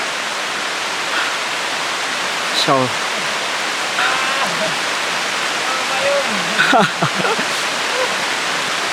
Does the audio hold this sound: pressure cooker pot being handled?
no